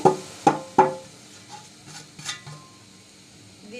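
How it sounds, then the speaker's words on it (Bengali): Stirring a sugar and semolina mixture for modhupuli pitha in a pan: a few loud utensil scrapes and knocks up front, then softer, sparser stirring scrapes and light taps with a faint sizzle. "আর একটু নেড়ে চেড়ে নিচ্ছি"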